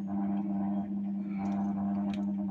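A gas oven's rotisserie skewer turns with a steady mechanical hum, a low, droning tone running continuously, like a small motor nearby.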